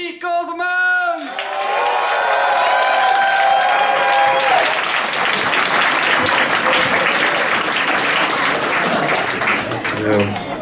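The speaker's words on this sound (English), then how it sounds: "Thank you for your kind applause." A comedy night audience breaks into loud, sustained applause right after a brief shouted introduction, dense clapping with scattered whoops filling the room.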